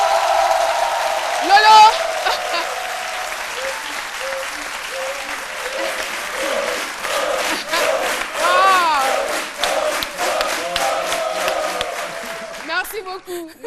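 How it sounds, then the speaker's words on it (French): Ovation from a studio audience on a French-language midday radio-television show, loud sustained clapping with cheers and shouts, a dense steady wash lasting many seconds before thinning out, with a brief spoken word at the end. "je voudrais qu'on puisse faire une ovation pour Loïc de Denis"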